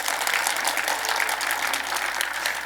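A church congregation breaks into applause during a sermon, a steady wash of many clapping hands filling a large room at even volume throughout, with no speech on top.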